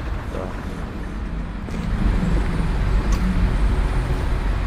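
A coach bus engine idling with a steady low rumble and broadband road noise that swells slightly midway, with a voice talking over it.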